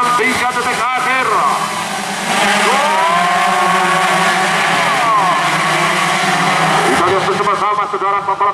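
Race cars on a track roar past with engine pitch sweeping up and down under a fast, excited commentator talking almost throughout.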